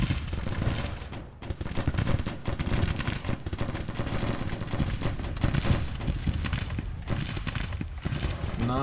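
Cannon artillery fire in the Grand Tactician Civil War strategy game, a dense, continuous rumble of booming battle sounds with overlapping shots filling the whole stretch at steady loudness.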